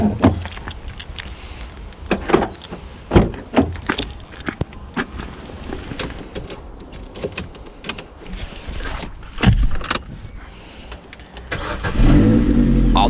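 A Vauxhall car at a UK car auction is cranked and started, with clicks, door and window noises before the engine catches and settles into a steady idle near the end.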